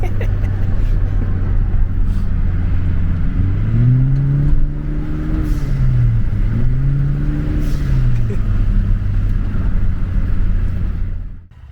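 Honda Civic 10th gen fitted with a blow off valve, heard inside over steady road rumble as the engine rises and falls in two sweeping rev pulls, moderately loud and continuous.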